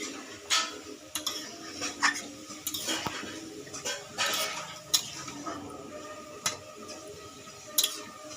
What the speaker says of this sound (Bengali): ঢাকনা খুলে আবারও নাড়িয়ে নিচ্ছি।